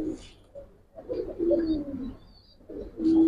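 Old-breed Urti-line Giribaz pigeons coo close by in soft, throaty, repeated phrases, with a few short pauses between the calls.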